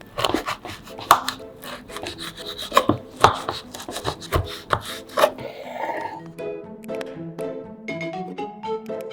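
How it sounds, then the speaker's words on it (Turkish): Figs are chopped with a knife on a board: quick, close, irregular chopping knocks at first, then a lighter scraping and clinking as the pieces are gathered. "incirleri doğrayıp ayrı bir kaba koyuyorum"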